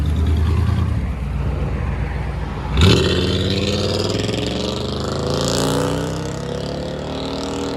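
A 1996 Chevy Silverado 1500 with a 5.7L V8 and straight-pipe exhaust idles with a deep rumble, then revs hard as the throttle is blipped, holding a loud raspy roar close by before easing back.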